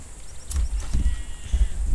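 Sheep bleat in Lord of the Rings Online, a few short moderately close calls over low game ambience and footsteps.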